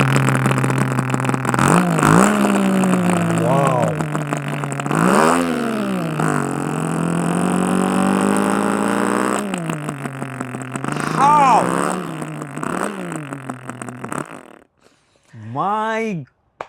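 A voice imitates a Suzuki Samurai motorbike engine, giving repeated revving vroom sounds with rising and falling pitch, ending in a short final rev after a brief pause.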